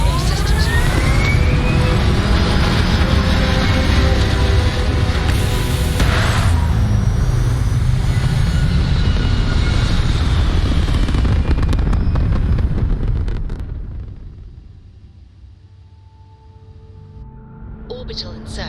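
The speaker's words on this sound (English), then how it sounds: "Liftoff looks good." A rocket lifts off in the space game Starfield with a loud, roaring, crackling blast that rumbles on for several seconds before fading to quiet, as voices speak over it.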